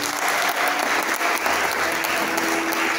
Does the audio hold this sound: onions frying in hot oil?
no